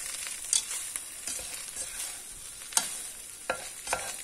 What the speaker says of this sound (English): Then we just give it a quick stir